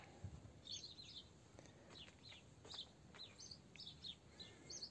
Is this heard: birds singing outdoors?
yes